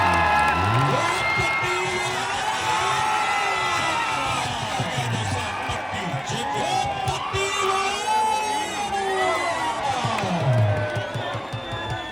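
Crowd at a kushti wrestling match whooping and cheering loudly, with shouts and yells rising and falling throughout; an announcer's voice carries over the noise.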